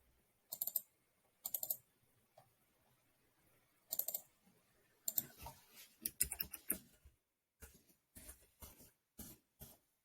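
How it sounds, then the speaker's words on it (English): Keystrokes on a computer keyboard while a document is being formatted, sounding in short uneven bursts of clicks with pauses between them, fairly close and quiet, with no talking. "Sorry for my lack of typing skills."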